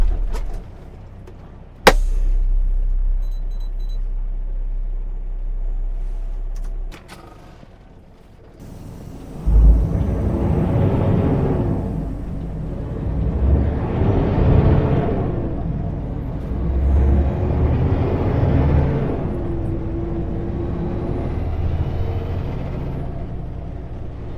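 A truck's air brakes give a sharp hiss during a brake check on a mountain road between Slocan and New Denver, followed by a steady, loud engine rumble with rising and falling surges.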